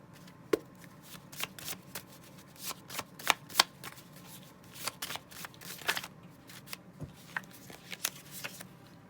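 A deck of tarot message cards is shuffled by hand, with rapid irregular riffles and flicks, close and fairly quiet, and nobody talks.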